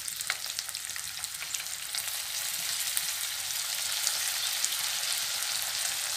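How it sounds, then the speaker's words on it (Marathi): Bell pepper being stir-fried for about a minute in a pan for paneer chilli, an even close sizzle with small ticks and stirring scrapes throughout, no voices. "आता त्यामध्ये मी ढोबळी मिरची घालणार आहे, ती सुद्धा जास्त आपल्याला परतायची नाही आहे, साधारण तीही एक मिनिट भर मी परतून घेणार आहे"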